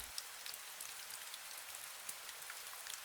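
Steady rain falling, a soft even hiss of many drops with faint scattered pattering, continuous and fairly quiet, with no voices.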